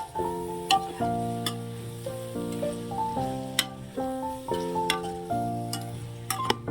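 Chicken with chilli powder, salt and spices is stirred in a pot with a light sizzle and rhythmic scraping strokes, while steady tonal music plays over it.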